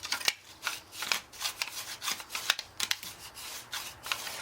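A steel card scraper is drawn across a wooden workpiece in quick repeated strokes, producing faint, close, dry raspy scrapes in an uneven rhythm of short bursts.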